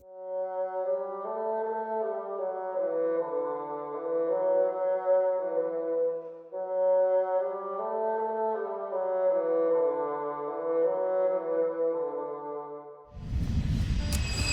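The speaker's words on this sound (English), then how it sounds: "The bassoon uses a double reed similar to the oboe and cor anglais, but produces a much deeper sound." Bassoon, a deep double-reed woodwind, plays a slow legato melody of low sustained notes with a reedy warm tone, close and alone, before a short burst of noise at the end.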